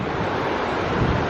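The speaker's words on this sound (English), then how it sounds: "where the only thing you can hear is the river" Steady broadband rush of a river flowing beside an Alaskan roadside, continuous and even with no other sounds, a little wind-like in texture.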